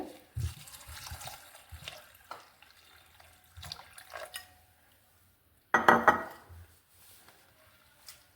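Sago pearls being rinsed in a bowl of water, with intermittent sloshing and swishing and a louder burst of splashing partway through, close and fairly quiet, with no talking.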